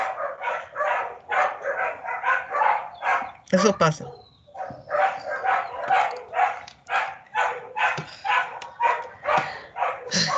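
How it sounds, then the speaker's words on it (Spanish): Dogs bark repeatedly in the background while people talk over them throughout. "Se oye mucho. Los perros."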